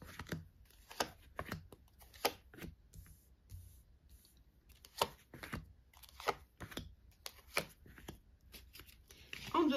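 Tarot cards being shuffled and handled for a weekly reading, in crisp irregular bursts of riffling and slapping with quiet pauses between, close and fairly soft.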